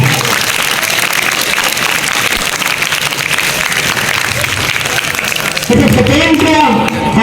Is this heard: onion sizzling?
no